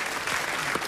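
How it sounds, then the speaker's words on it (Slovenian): Brief, dense burst of crowd applause for a band at a show in the Tivoli hall in Ljubljana, a steady wash of many hands lasting under a second. "dajte en aplavz za bendče"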